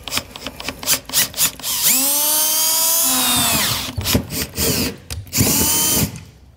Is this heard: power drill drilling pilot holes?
yes